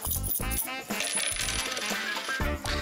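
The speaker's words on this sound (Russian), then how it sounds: "потрясти их и бросить на стол." Several coins shaken and tossed onto a table, a bright rapid jingle of clinking metal with repeated bursts of rattling and settling, close and loud.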